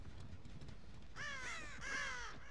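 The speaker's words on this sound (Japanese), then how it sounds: "うるせえカラス" A crow in the video game Dead by Daylight gives two harsh, close caws in quick succession over a low rumbling background.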